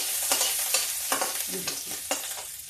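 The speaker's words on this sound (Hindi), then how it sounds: "अब देखिए दोस्तों, ये मेरा तेल हो गया है। अब इसमें हम डालेंगे थोड़ा मेथी" Fenugreek seeds sizzling in hot oil in a kadhi pan, with a steady frying hiss broken by several sharp bursts of crackle and stirring scrapes, close and without talk.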